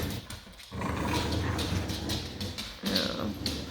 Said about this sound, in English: Cute puppy.